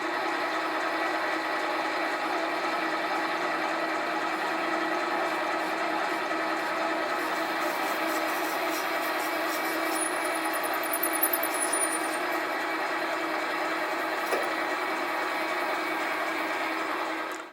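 Metal lathe parting off a bushing workpiece for crankshaft bearings, a steady continuous machining drone with faint high squeal partway through, close and loud, no talk.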